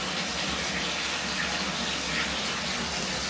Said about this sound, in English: So I'm gonna wash my hair.